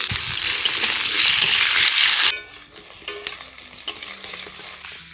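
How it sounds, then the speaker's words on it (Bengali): Potatoes frying in a pan, a loud steady sizzle as they drop into hot oil, giving way to quieter crackling with a few sharp stirring clatters and scrapes. "এবার ভেজে নিচ্ছি আলু।"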